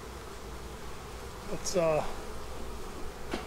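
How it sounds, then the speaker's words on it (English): Honey bees at an open beehive during the nectar flow make a soft, steady buzz, close but quiet, as a voice briefly speaks. "We do have bees."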